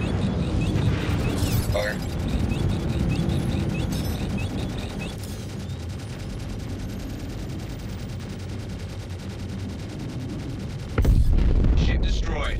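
Missile launches and an exploding ship in the Star Citizen space combat game, a dense roar of weapon fire and rumbling blasts running throughout, with a sharp louder burst near the end over a steady low hum.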